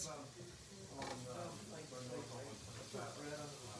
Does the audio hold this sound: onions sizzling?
yes